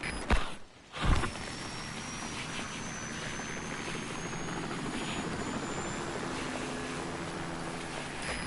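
Helicopter rotor drone near a heliport in a Metal Gear video game, a steady loud whirring wash that fills the scene after a brief dip and burst at the start, continuing without pause.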